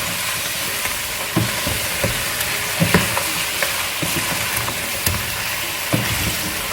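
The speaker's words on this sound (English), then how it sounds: "Mix all the spices well, and then further fry it" Spices fry and sizzle steadily in a chicken karahi pan while a spoon scrapes and stirs through them in repeated clanking strokes, close and fairly loud with no talking.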